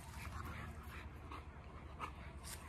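Two dogs of the same bloodline roll around and bite at each other in play, giving off faint yips, whimpers and snuffling noises at low volume, with bits of background noise.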